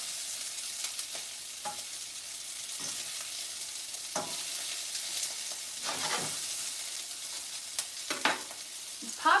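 Shrimp fry in hot oil with a steady bright sizzle, punctuated by scattered sharp pops and occasional stirring scrapes, close and moderately quiet with no talking.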